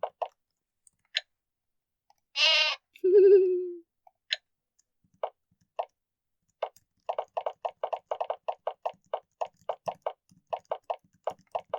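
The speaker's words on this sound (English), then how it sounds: "And it's got sheep!" A short, wavering sheep bleat sounds once in the old computer role-playing game Exile III: Ruined World, followed by a lower tone and a long run of sharp mouse-style clicks, all quiet and with no talking.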